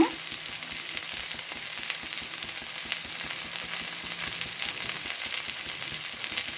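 Vegetables for a wheat-flour adai sauté in a pan with a constant crackling sizzle and a rapid, regular ticking of spatter, fairly quiet and close, no one speaking.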